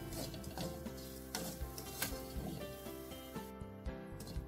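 A spoon stirs a jaggery and coconut filling for kozhukattai in a pan, giving soft scraping and clinking taps in an irregular rhythm with a faint hiss behind, close but quiet.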